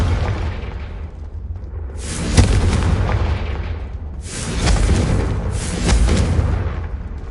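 Confringo fire-spell blasts in the video game Hogwarts Legacy: three loud, booming explosive bursts with broad rumbling tails, spaced a couple of seconds apart over a steady low background.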